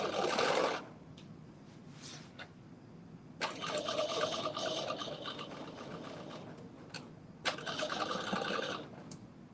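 A sewing machine runs in bursts while garments from patterns S8839 and S9683 are stitched during a live sew-along, with one short run, a long steady run, then another sustained stretch close by.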